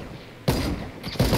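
Two loud, close gunshot bursts in Fortnite Battle Royale, each a sharp blast with a brief rumbling tail, set against a quiet background hum.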